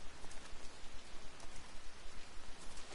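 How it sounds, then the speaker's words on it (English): Steady rain in the video game Everybody's Gone to the Rapture, a dense even hiss of falling drops throughout, fairly quiet and alone without talk. "So it is actually raining now."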